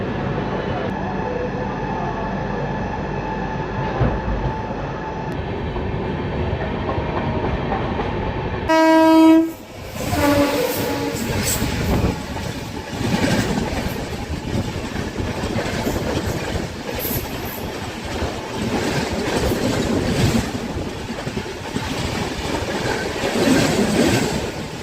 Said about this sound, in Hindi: अंकापल्ली रेलवे स्टेशन